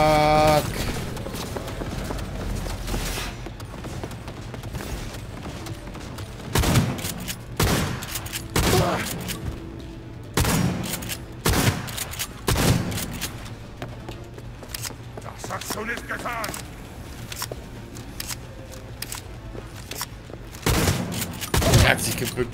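Rapid bursts of gunfire from the video game Cyberpunk 2077, loud and close, with several sharp volleys and booms spread across the clip over game music and someone talking.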